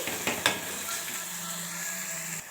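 Green chilli paste sizzles and fries in hot oil, a steady close crackle with a few sharp stirring knocks at the start.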